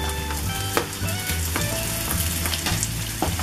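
Chopped potatoes fry with browned onion, garlic and ginger in a pan, a close steady sizzle punctuated by a few scraping stirs.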